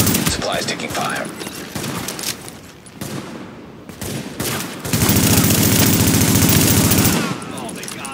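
Rapid automatic gunfire and scattered shots from the video game Tom Clancy's The Division, with a long sustained burst late on, loud and dense, mixed with game sound effects and a voice.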